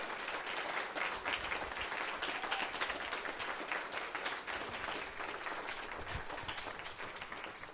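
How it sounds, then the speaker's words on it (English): Steady audience applause fills a jazz club as a crowd claps for the hosts after a school jazz ensemble performance, dense and sustained throughout with no voices rising above it. "Big round of applause for them hosting us"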